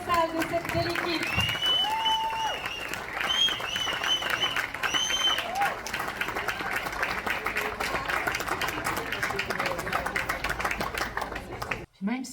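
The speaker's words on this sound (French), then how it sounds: "là, on applaudit très fort le travail colossal de cette belle équipe." Brunch audience claps for a volunteer team, sustained applause from a crowd indoors, fairly distant and moderate, with voices and whistles or cheers overlapping before fading out near the end.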